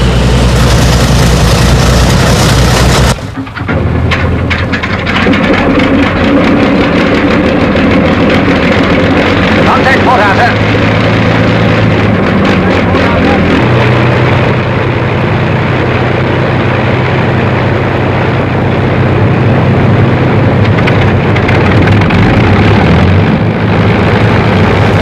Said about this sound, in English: A 36-litre V12 engine, of course, makes an incredible amount of noise.